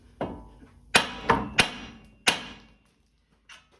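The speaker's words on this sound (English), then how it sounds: "this is where our big hammer comes in handy. What you're going to do is hit on the steering knuckle" Heavy hammer blows ring out against the steering knuckle of a 2013 Suburban during ball joint replacement, five sharp metallic strikes in an uneven sequence, loud and close, followed by a faint tap after a brief pause.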